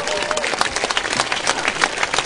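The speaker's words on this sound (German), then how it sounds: "Ein großer Applaus, bitte." Theatre audience applauding at a performance of Shakespeare's The Tempest, a dense, lively burst of many hands clapping at once, brief and fairly close.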